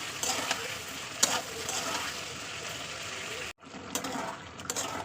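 Tomato and green chili sautéing in a pan for lote fish curry, a continuous sizzle with scraping stirs and a brief utensil clack, cut by a short break before the frying resumes.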